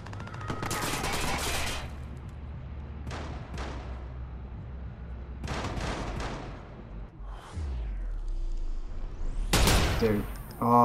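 Gunfire in the video game Watch Dogs: several loud, distinct bursts of shots separated by short gaps, with a final sharp blast near the end, and a player speaking between the shots.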